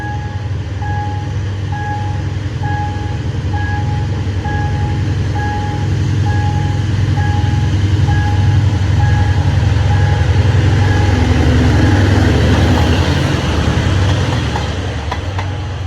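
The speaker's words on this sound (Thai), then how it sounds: "สียงเครื่องยนต์กระหึ่มนะฮะ" A heavy locomotive engine of an express passenger train roars steadily with a deep low rumble at a level crossing, joined by intermittent high warning beeps early on, swelling louder toward the end.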